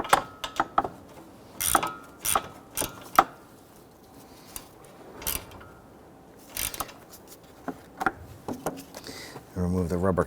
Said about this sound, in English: using a number 5 Allen head socket, I'm going to go ahead and snug that